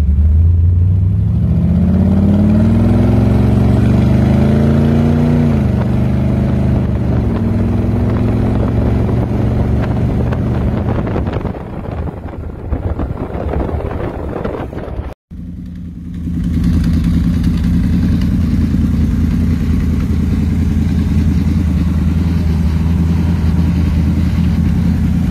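A vehicle engine pulls along a main road, climbing through the gears, with its tone rising and dropping at each shift before a brief cut and a steady cruising drone.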